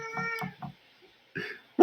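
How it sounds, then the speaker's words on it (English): A cat meows in protest, giving several short close meows in quick succession, then a pause and another louder meow, with no talk over it. "My cat is protesting because she's upset I'm yelling."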